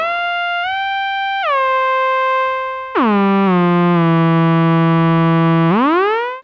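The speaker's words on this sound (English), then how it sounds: "as this is designed to be a lead synthesizer, have a nice glide" A Cherry Audio Solovox lead synthesizer plugin plays a sustained, bright monophonic tone whose pitch glides smoothly between several notes, dropping low and then sweeping back up, loud and alone.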